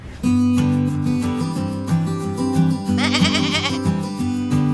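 Saanen dairy goats on a small Philippine farm bleat repeatedly, with overlapping wavering calls layered close together and continuing throughout.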